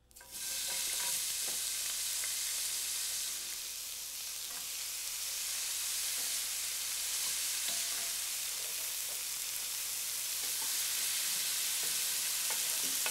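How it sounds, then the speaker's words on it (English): Bacon sizzles loudly in a pan already used for spinach, a dense steady crackle and hiss that starts abruptly and carries on close up with scattered pops and no talking. "Here goes bacon."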